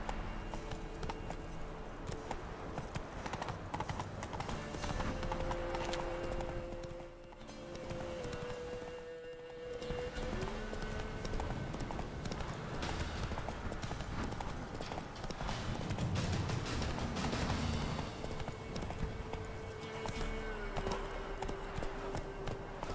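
Roach, a horse in The Witcher 3, gallops with a continuous rhythmic clip-clop of hooves, moderately close, over a game soundscape with a low tonal drone and a brief dip in the middle.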